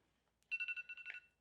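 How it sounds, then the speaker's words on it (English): A mobile phone ringtone goes off briefly, a short burst of rapid repeated electronic chirps, faint and somewhat distant, with no talk over it. "Oh, my phone's going off."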